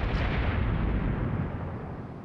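Naval gunfire exchange in the World of Warships video game, a loud heavy cannon boom that rumbles and rolls on before slowly fading, close and dominant.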